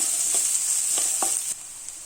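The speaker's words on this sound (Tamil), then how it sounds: "இதோட ஒரு பெரிய வெங்காயம் சின்ன சின்னதாக இந்த மாதிரி கட் பண்ணி போட்டுக்கோங்க. அதோட ஒரு பச்சை மிளகாய் இந்த மாதிரி சின்ன சின்னதாக கட் பண்ணி போட்டுக்கோங்க. இதை நல்லா வதக்கிக்கலாம்." Chopped onion and green chilli sautéing in a pan for rajma gravy give a steady, bright sizzle throughout, with a few soft stirring knocks and a slight drop in level near the end.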